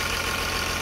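A 2002 Blue Bird school bus engine idling steadily, a continuous loud diesel rumble with an even low throb and no breaks.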